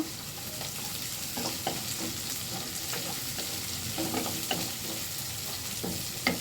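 Shrimp, onion and garlic paste sizzle in a pan under a continuous frying hiss, with a spoon stirring and scraping in short bursts, close and quiet.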